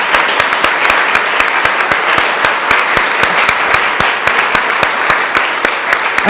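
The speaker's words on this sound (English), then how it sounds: "another round of applause" A conference audience applauds, and one close, sharp, rhythmic clapper stands out above a dense bed of many hands, loud and sustained throughout.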